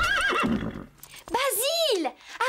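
An agitated cartoon horse in a stable stall lets out a loud, wavering whinny with rising and falling pitch, preceded by speech and a brief shorter neigh.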